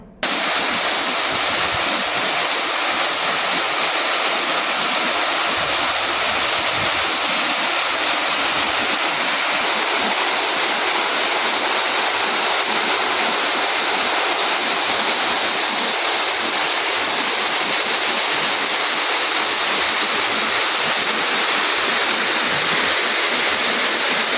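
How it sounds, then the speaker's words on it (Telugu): The Bogota waterfall in Telangana roars under heavy flood water, a dense, steady rushing wash of falling water, loud and continuous for the whole stretch with no voices. "తెలంగాణ నయగర బోగోతా జలపాతంకు భారీగా వరద నీరు పొంగి పడుతున్న జలపాతం"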